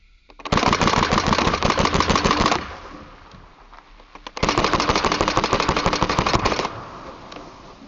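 Rapid full-auto BB gun bursts rattle off in two long strings of fast, sharp clicks and snaps, loud and close, separated by a short pause with no talking.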